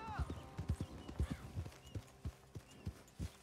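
Horse hooves clip-clopping in steady, uneven rhythm within the Red Dead Redemption 2 game world, a close series of sharp thuds with a brief whinny near the start and low game ambience underneath.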